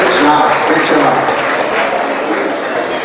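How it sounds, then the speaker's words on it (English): Crowd applause for kindergarten graduates at a promotion ceremony, a loud, even roar of clapping mixed with voices and cheering from the audience. "Please give those babies another round of applause"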